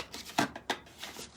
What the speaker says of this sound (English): I'm just going to shuffle these cards real quick as we speak